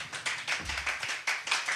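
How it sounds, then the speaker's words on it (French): A church congregation applauds in response to an evangelist's sermon on integrity, with loose, uneven bursts of clapping rising and falling in a steady patter and no talk over it. "Est-ce qu'on peut applaudir pour ce genre de papa?"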